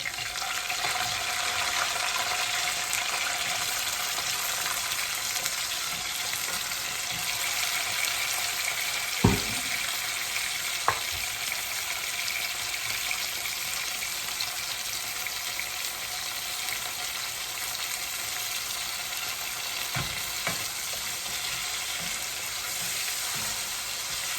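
Raw tomatoes go into a hot frying pan with small fish and pumpkin, giving a steady, soft sizzle throughout, broken by a few sharp clinks of a utensil against the pan.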